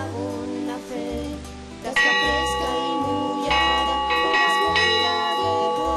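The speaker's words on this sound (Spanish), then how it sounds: "Toca la campana un poco, anda. Para que se oiga." A hermitage bell is struck repeatedly, ringing loud and close with overlapping metallic tones that sustain between strikes, while a voice murmurs faintly in the background.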